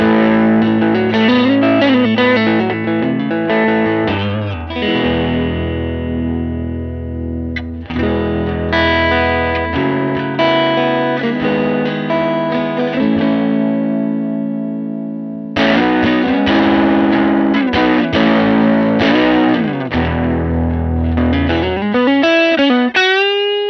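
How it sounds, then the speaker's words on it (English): An electric guitar on the neck pickup plays through a Vyse Rebel tube amp with natural overdrive and added reverb, sustained chords and lead phrases ringing warm and gritty, with brief pauses between passages. "You get this really nice natural tube overdrive from the amp"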